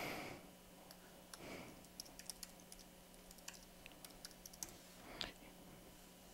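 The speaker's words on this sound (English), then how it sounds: "So it's simple as just typing it all in." Someone types on a computer keyboard in a quiet room, making faint, irregular clusters of light key taps over a low background hum.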